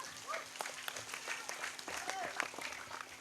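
Audience at an Islamic sermon in Indramayu applauding, a moderate steady spatter of clapping from a crowd with a few voices mixed in, continuing throughout.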